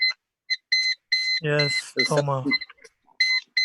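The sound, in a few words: electronic beeping during an online webinar call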